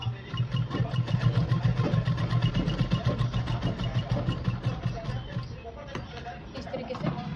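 A sewing machine stitching the flared hem of a baby frock, heard as a close, continuous rapid mechanical whir with a dense, regular needle rhythm from start to finish.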